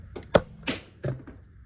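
Metal washers and a nut slid onto a harmonic balancer bolt on an LS-swapped F150, a few short, light metallic clinks heard close and otherwise quiet.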